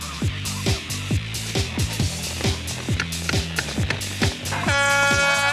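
Rhythmic clanking hits repeat steadily as gates are built in a Young Farmers gate-making contest, then a loud, sustained air horn hooter blast sounds near the end, signalling the end of the contest.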